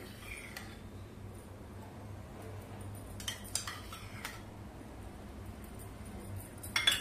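A spoon stirs a makhana modak mixture with ghee in a pan, giving quiet, sparse clinks and scrapes of metal against the pan over a low background, with a louder clatter near the end.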